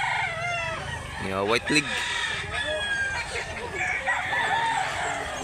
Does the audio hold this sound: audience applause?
no